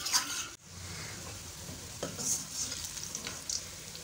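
Onions frying in a pan for Lahori beef karahi, a soft continuous sizzle under quick stirring scrapes and a couple of sharp utensil knocks, fairly quiet and close.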